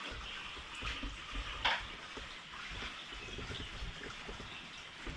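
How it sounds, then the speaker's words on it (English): Rainwater seeping and dripping through a timber roof that isn't waterproof, heard as a steady wet trickling and splashing with a brief louder gush, fairly faint and continuous. "the water is coming through the timber"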